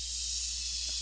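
Badger airbrush spraying paint onto a half-scale bust, heard as a steady, close, continuous hiss with no one speaking.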